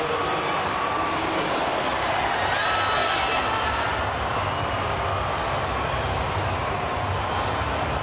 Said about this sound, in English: listen to the reception around this Suncorp Stadium for that